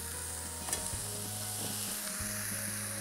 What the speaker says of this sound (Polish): I teraz tak grillujemy nasz karczek, żeby tłuszczyk pięknie nam spłynął pomiędzy te ryfle.